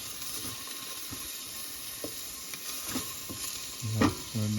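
Garlic and onion sautéing in a pan for chicken feet adobo, a soft steady sizzle with faint stirring and light clinks near the end.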